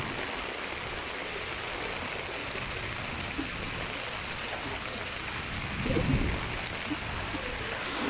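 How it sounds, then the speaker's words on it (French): Steady, dense tropical rain in Australia hisses continuously, with a brief louder swell of splashing water toward the end. "il y a vraiment beaucoup de pluie"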